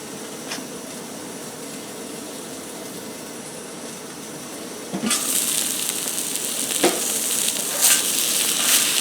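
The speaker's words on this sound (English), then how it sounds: "I'll let it cook on one side to kind of get that nice crisp edge with the shrimp here." Shrimp sizzle on a DIY skottle, a cowboy wok or discada, with a lid holding in the heat. A steady soft frying hiss runs throughout, then turns louder and brighter about halfway through, with a few sharp crackles and pops.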